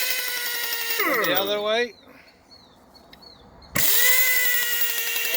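A vintage 1-inch Chicago Pneumatic impact wrench from a closed manufacturing plant runs in two loud, close bursts of steady whining air-motor drone, winding down once before restarting; someone speaks briefly between the runs.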